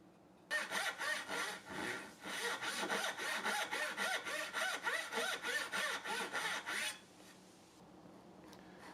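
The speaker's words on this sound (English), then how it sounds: "There's a good amount of dovetails in this project, so I just get going with the saw and stay accurate" A Rob Cosman dovetail saw cuts dovetails in wood for a hand-crafted jewelry box, giving a close, rhythmic rasp of about twenty quick even push strokes that stop abruptly, with no talking.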